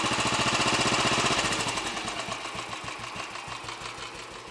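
A Royal Enfield Bullet 500 single-cylinder motorcycle with its exhaust baffle removed, just after a head gasket replacement, runs steadily with a loud rapid thumping exhaust beat that eases slightly as it settles toward idle.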